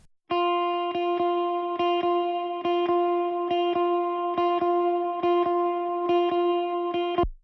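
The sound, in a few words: clean Quad Cortex guitar with a little reverb and delay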